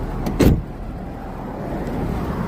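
A Daimler XJ40 with a 4-litre straight-six engine idles with a steady low rumble, heard close, after a brief clunk at the start.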